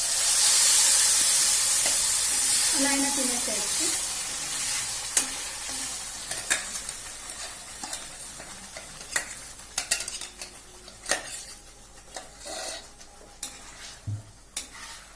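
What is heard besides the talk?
tempering (popu) frying for tomato mint chutney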